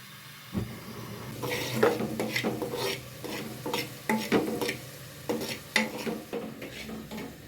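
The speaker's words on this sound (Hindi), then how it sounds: "अब मैं ये थोड़ा सा बेसन है इसको भूनती हूँ" Gram flour and onion roasting in oil, with a low sizzle under rhythmic, rasping spatula strokes scraping the pan, close and repeated across the whole stretch.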